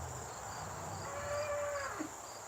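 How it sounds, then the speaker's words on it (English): A cow on a small farm gives a single drawn-out moo at moderate distance, rising and then falling, over a faint backdrop of chirping insects. "We'll go see the cows."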